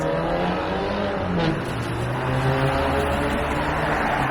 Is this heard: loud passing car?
yes